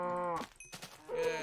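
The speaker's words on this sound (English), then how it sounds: "Come here, cow." Cow in the Minecraft video game mooing twice, a loud, close, drawn-out low moo at the start and another at the end, separated by brief clicks of game sounds.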